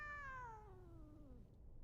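A cartoon cat in the anime Chainsaw Man gives a single drawn-out meow that slides downward in pitch and fades, heard alone and close.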